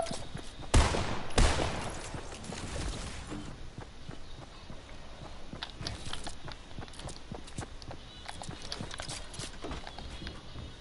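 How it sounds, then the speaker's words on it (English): Minigun fire in a video game, a dense rattling burst up front with two loud blasts early, then continuous crackling gunfire and clatter running throughout. "I have a minigun"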